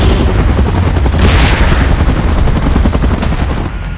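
A helicopter in a video game hovers during an evacuation, with loud, steady rotor thumping that fills the whole stretch, close and continuous, with no speech.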